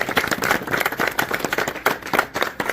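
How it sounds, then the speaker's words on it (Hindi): People clap together at the opening of a goat farm, a dense, fairly loud burst of clapping from a small group that runs on steadily, with some crowd noise mixed in. "तो इनकी मेहनत के लिए प्लीज ताली सब लोग के लिए।"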